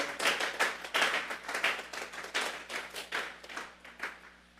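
A church congregation clapping hands as an offering to God during a sermon, a rhythmic series of separate clap bursts in a roughly steady pulse, moderately faint and without talk.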